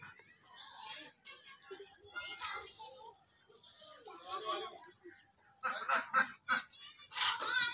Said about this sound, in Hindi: ये देखिए बतकी।